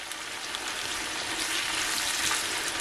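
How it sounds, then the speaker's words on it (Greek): Eggplants and peppers fry in a pan with a little salt, giving a steady soft sizzle and faint crackle throughout, quiet and close, with no talking. "Θα χρειαστείτε γύρω στο 10 λεπτό για να ακούσετε αυτόν τον ήχο, δηλαδή του τηγανίσματος"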